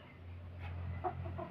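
A laying hen gives a soft, brief cluck or two over a low steady hum, fairly faint and short, with no talking.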